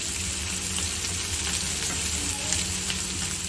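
Pepper chicken with coriander sizzles and fries in a pan while being stirred, a steady soft crackle with faint scraping through the whole stretch and no voices.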